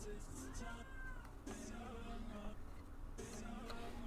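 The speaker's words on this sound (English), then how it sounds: "Not sure if you guys can hear the kitty or not." A hungry pet cat meows a few times close by, its calls rising and falling over steady background game music, with a person talking now and then.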